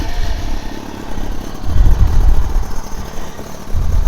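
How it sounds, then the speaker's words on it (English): A loud motorbike engine runs steadily, heard from a helmet-mounted microphone, with a low rumbling drone that swells and eases slightly as it revs. "my motorbike is pretty loud"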